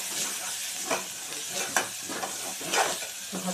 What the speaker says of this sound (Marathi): इकडे मी हे छान आता परतून घेणार आहे